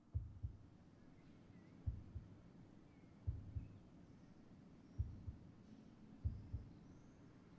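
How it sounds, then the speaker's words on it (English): Slow, muffled heartbeat from a game, Harmony: The Fall of Reverie, coming from inside a mother's room: paired low thumps repeating about every 1.5 seconds over a soft hum, with no talk. "The noise emerges from somewhere inside my mother's room, a heartbeat, and a gentle pearl-like rattling"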